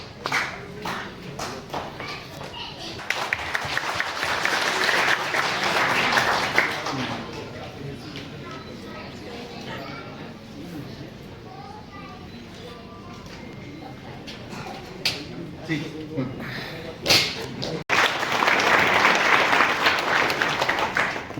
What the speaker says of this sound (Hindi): दोस्तों ताली बजाइए।